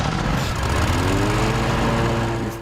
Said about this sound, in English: Longtime customers like David Westy didn't expect a commercial mower in their yards